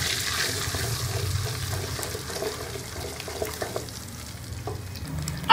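Tomato paste frying in a pan for tomato chutney, a steady soft sizzle with stirring scrapes and watery bubbling, fairly quiet and close, with no talking.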